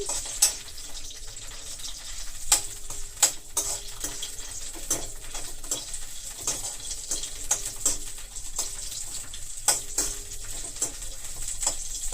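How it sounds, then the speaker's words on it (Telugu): Ingredients sizzle in a pan over medium heat, with scattered metallic clinks of a utensil against cookware and a steady frying hiss underneath, no voices. "కొంచెం ఇది మీడియంలో పెట్టి వేయించుకుంటే లోపల గింజల వరకు వేగుతుంది"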